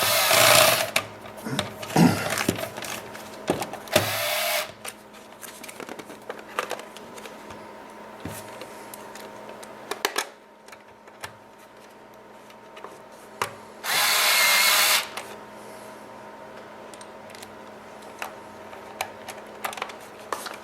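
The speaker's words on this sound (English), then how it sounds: "I'm going to use an electric screwdriver to speed the process a little bit." An electric screwdriver driving screws into a RadioWrap motorcycle radio mount for a Sony AX7000, giving a few short loud whirring bursts near the start and again later, separated by quiet stretches of small clicks and handling noises.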